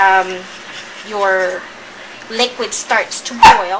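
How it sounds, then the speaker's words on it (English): A dog barks a few times in the background of a home kitchen while chicken satay cooks. The barks are brief and mostly sit under a person's steady talking, with the clearest yelp near the end. "you can hear my dog barking in the background"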